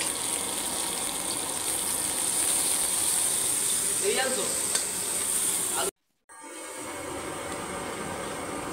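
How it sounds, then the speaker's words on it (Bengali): Onions added by the cook Manik hiss and sizzle in a hot pan with a steady frying roar and faint stirring, cutting to silence briefly before a quieter continuation. "এ পর্যায়ে পেঁয়াজগুলো ছেড়ে দিচ্ছে বাবুর্চি মানিক"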